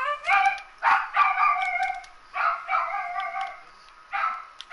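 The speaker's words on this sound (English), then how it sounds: "This is my dog in the background." A dog barks in a run of sharp, loud woofs in bursts with short pauses, fairly close by and with no talk over it.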